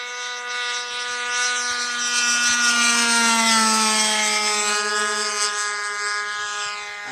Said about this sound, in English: and bring the plane from way back there.